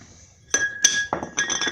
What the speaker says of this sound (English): what you can do is kind of like hammer it a little bit on something round